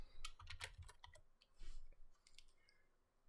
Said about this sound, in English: we're actually going to type out